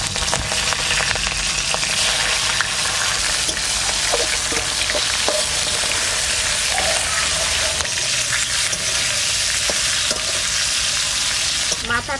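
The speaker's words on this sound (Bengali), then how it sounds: "সরষের তেল দিয়ে দিচ্ছি, কালো জিরে, কাঁচা লঙ্কা, দিয়ে দেবো ইলিশ মাছের মাথা," A hilsa fish head fries in mustard oil with nigella seeds and green chillies, a loud, continuous close sizzle with a few stirring clicks and no talking.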